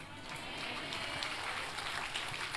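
Church congregation applauding in a worship service, steady broadband clapping filling the whole moment at moderate level, with no clear voice on top.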